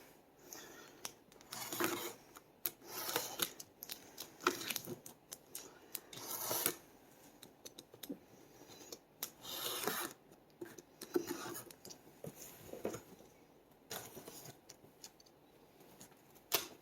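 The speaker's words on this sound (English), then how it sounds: "I just cut the shipping tape from the mount box" Shipping tape being cut and slit on the cardboard box of an iOptron HAE29 telescope mount, heard as close, intermittent scraping and rasping bursts with short pauses between strokes and no talking.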